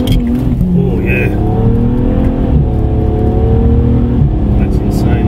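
A BMW 335i tuned to Stage 3 accelerates hard from inside the cabin, its engine roaring and rising in pitch through quick gear changes, loud and close with a voice talking over it.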